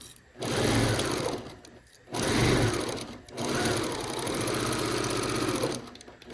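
A sewing machine stitches quilt block pieces in three bursts of fast, steady mechanical whirring and clatter, with brief pauses between runs. The sound is close and alone, with no talking.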